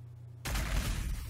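Lascannon firing in the Warhammer 40,000: Sanctus Reach video game, a sudden loud blast that bursts in after a quiet hum and roars on in a sustained, broad rumble.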